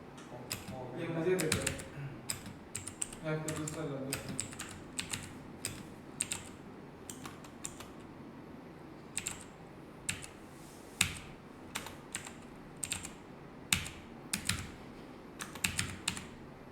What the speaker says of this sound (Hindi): कीबोर्ड खराब हो गया